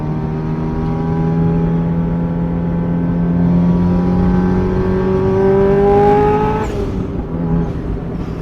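A Subaru Impreza STI Spec C RA-R accelerates hard on a test drive, its engine note rising steadily through the gear from inside the cabin, loud and continuous, easing off briefly near the end; no one speaks.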